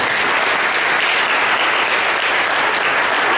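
A church congregation at a Baptist service applauds in a loud, dense, unbroken burst of clapping that fills the room and holds steady throughout.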